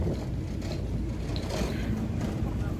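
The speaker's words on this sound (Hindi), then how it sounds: "आप लोग देख सकते हैं कितना तेज़ हवा चल रहा है" Strong wind buffets the microphone outdoors in worsening weather, producing a dense, low, continuous roaring rush with gusty swells throughout.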